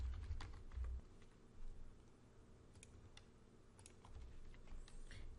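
A username is typed on a computer keyboard while a new user is set up in WordPress. Quick, light key clicks come in irregular bursts, faint and close, over a low background hum, with no talking.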